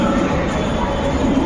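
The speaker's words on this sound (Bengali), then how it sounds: "এই দেখতে পাচ্ছেন একটা মেট্রো আসছে" Hyderabad Metro train pulling into a station: a continuous loud rumbling roar of wheels and motors filling the platform, steady throughout with no clear pauses.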